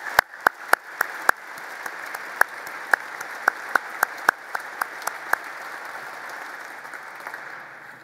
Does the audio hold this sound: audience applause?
yes